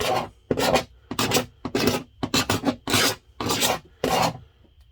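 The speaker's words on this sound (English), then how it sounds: "I'm gonna scrape it. Just kind of rough that edge up a little bit and get some of this texture off of right here." Scraper rasping over the rough edge of a cracked ABS shower pan, eight or nine firm strokes in a steady rhythm, close and loud with brief pauses between, no talk.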